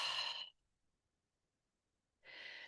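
A long, breathy exhale during a relaxation breathing exercise, close and fairly loud, fading into near silence before another airy breath begins.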